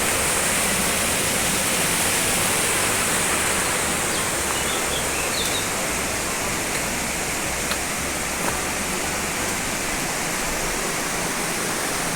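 A river at Els Empedrats in Catalonia, running low at a shallow crossing point, gives a steady, dense rush of flowing water that stays even and fairly loud for the whole stretch, with no voices over it.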